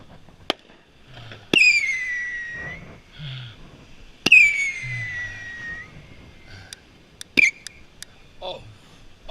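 Fireworks going off, with sharp isolated bangs and a couple of bright whistling crackles that fade out, spaced irregularly amid quieter background sounds and brief voices.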